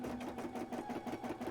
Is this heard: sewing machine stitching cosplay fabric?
yes